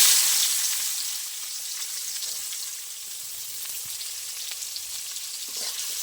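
Onions frying in hot oil with whole garam masala and a dried red chilli: a dense, even hiss of close sizzling that holds steady throughout, with faint crackles and no voices.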